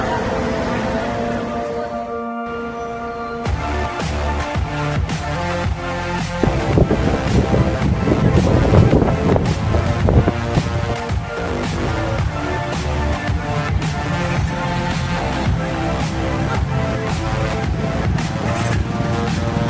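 Strong wind noise and engine drone while riding a habal-habal motorcycle taxi on a 17-kilometer trip in Mindanao, a steady loud buffeting roar that builds after a brief quieter start.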